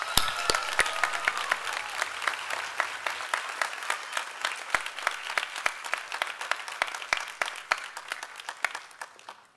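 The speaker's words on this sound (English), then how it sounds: "can we have a huge round of applause for our head student, Francis" A crowd at a Bangkok Prep Class of 2023 graduation ceremony applauds the head student, a dense, steady roar of many hands clapping at close range, holding strong for the full stretch before tapering off at the end.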